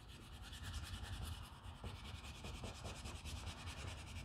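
Coarse steel wool soaked in acetone scrubs the old wood finish off an SKS rifle stock, a steady, close, raspy rubbing that continues without pause and with no talking.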